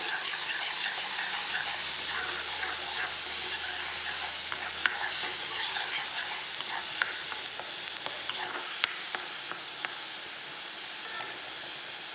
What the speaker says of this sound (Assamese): এইফালে পিঁয়াজৰ পেষ্টখিনি দি এতিয়া অকণমান ভাজি ল'ম